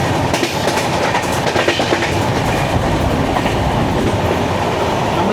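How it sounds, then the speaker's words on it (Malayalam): Rajdhani Express train rolling into Kalamassery station, loud close clickety-clack of wheels over rail joints with steady rumbling and rattling of the carriages, no voices. "നമ്മൾ ജസ്റ്റ് കളമ്പുഴി സ്റ്റേഷനിലേക്ക് കയറുന്നു."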